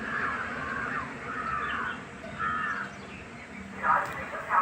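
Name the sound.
crow cawing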